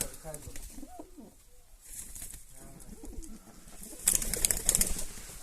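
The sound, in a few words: pigeons cooing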